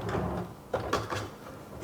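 Pull-out corner cabinet drawers in a San Antonio home slide open with a couple of soft thuds and rolling scrapes, close and fairly quiet, against a faint room hum.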